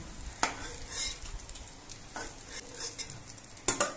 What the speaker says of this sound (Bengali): ধোকাগুলো এক পিঠ ভাজা হয়ে যাওয়ার পর আমি উল্টে দিচ্ছি